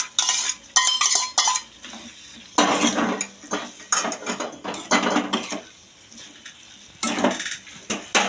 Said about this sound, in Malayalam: ഇനി അതിലേക്ക് നമ്മൾ വാട്ടി വെച്ച ക്യാരറ്റ് ഇടുക